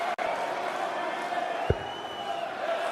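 At a darts match, a crowd keeps up a low, steady murmur of chatter and scattered cheering in the background, with one sharp thud near the middle and no clear speech.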